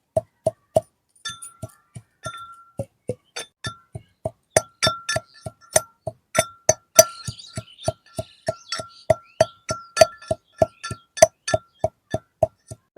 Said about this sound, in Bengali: এখন আমি আদা রসুন গুলো ছেঁচে নিচ্ছি